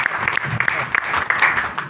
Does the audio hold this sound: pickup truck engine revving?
no